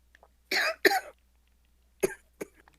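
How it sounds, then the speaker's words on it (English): A lingering cough from someone with a slight cold during a card game: two quick close coughs, then two more short, softer coughs and throat noises after a pause. "I still have a little bit lingering cough"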